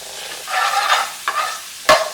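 Thinly sliced onions and peppers fry in a pan for a prawn pathia, producing a close, soft sizzle broken by a few brief stirring scrapes over about two seconds, with no speech.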